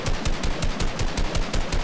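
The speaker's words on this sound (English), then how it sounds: "I got the gold assault rifle" Gold assault rifle firing in a video game, a rapid automatic burst of about a dozen evenly spaced shots, loud and close, with no voices.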